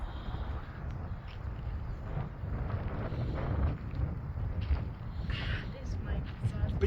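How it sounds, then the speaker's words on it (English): Steady wind gusts buffet the microphone at Buntine Rock, a continuous low rumble that rises and falls, with a voice talking over it. "It's a bit windy."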